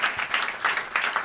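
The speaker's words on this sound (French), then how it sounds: "Applaudissez-vous, tout le monde. Faites beaucoup de bruit." A comedy show audience claps in uneven bursts, a moderate round of applause that swells and dips several times over a brief moment.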